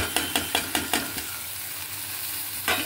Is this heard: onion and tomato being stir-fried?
yes